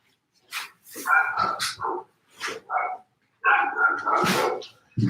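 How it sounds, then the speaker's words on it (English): Several dogs bark excitedly in short bursts and clusters at a food delivery arriving at the doorstep, close and loud, with brief pauses between volleys. "Dogs are going crazy."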